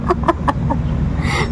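A chicken gives three or four quick, close clucks in a row over a low background rumble, then falls quiet before a faint rustle.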